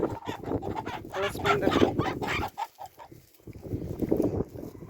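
Chickens clucking close by while pecking at food such as corn, pumpkin and cucumbers, an uneven run of clucks and squawks that pauses briefly before resuming.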